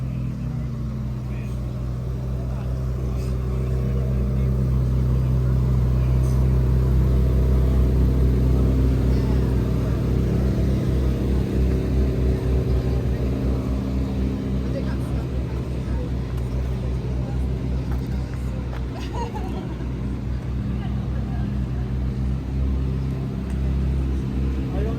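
A Ferrari or Lamborghini sports car engine drones steadily while driving through Monaco streets before the Grand Prix, a loud, low, continuous rumble from inside the car lasting throughout.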